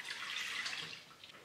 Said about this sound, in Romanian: Punem laptele în oală